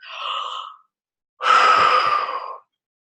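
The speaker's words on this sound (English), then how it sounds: "We're going to do just some very good deep breaths." Two deep breaths during a guided breathing exercise, each a breathy rush of air lasting under a second to about a second, close and fairly loud, with a short silence between them and no speech.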